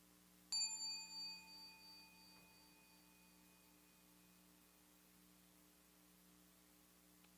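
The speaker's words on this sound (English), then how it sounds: "The sound of the bell arose in awareness. It shone in awareness. It faded away in awareness." A single bell strikes once, its clear ringing tone sustaining and slowly fading away over several seconds against a faint, steady hum.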